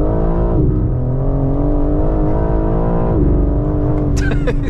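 A BMW G82 M4 engine on the move, a loud, dense harmonic drone that holds steady and shifts pitch as revs change, with a brief sharper burst near the end.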